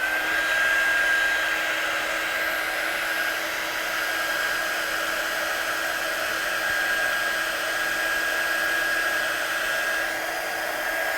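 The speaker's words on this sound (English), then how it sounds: "And then I'm just going to dry these off with my gun." A heat gun blows steadily to dry watercolour stamping on paper, a constant close whooshing hum with a faint high whine that holds unchanged throughout, with no talking.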